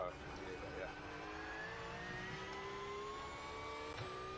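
A race car engine in the iRacing sim, lapping the Nurburgring 24-hour layout, drones loud and continuous, its pitch climbing steadily as it accelerates through the gears.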